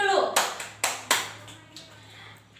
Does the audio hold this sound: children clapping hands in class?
yes